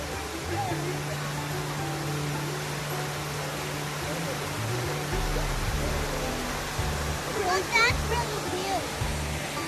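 Torc Waterfall in Killarney National Park sends up a continuous broadband rush of falling and flowing water, steady and fairly close, with a faint low hum running underneath.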